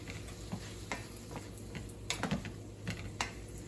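A turkey casserole mixture sautés in a crowded pan at home, a faint low sizzle broken by irregular spoon taps and scrapes as it is stirred.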